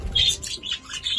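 Pet birds at a bird bath give a few bright, high chirps and tweets, close and moderately loud, in short bursts with brief pauses between them, with no talking.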